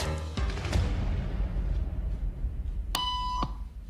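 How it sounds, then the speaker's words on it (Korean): A sudden electronic beep sounds during a social conformity experiment, a sharp tonal alarm tone lasting about half a second after a few clattering knocks. "갑자기 삐 소리가 났어요"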